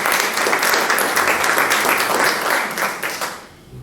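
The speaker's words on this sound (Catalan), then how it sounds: "fem un aplaudiment a l'Eva Sans" Audience applause at a talk in Girona's Casa de Cultura, a full, loud sustained patter of many hands that fades out near the end.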